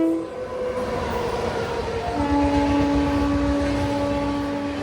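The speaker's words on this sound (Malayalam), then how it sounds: "നമ്മളെ ഓവർടേക്ക് അടിക്കാൻ വേണ്ടി തന്നെ കൊണാർക്ക് എക്സ്പ്രസ് വരുന്നുണ്ട് കേട്ടോ" The Konark Express rolls past steadily and close to overtake, its continuous rail rumble joined by long, sustained horn tones that change pitch partway through.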